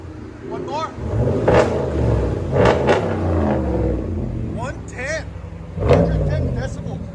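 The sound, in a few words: RAM 1500 5.7L HEMI revving with Flowmaster 40 series exhaust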